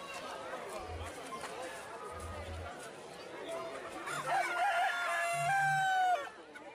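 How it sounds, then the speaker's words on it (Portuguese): Chickens cluck and chatter, and a rooster crows loudly near the end, with a crowd murmuring in the background at a bird fair in Campodarsego, Italy. "Aí também são diversos tipos de galinha."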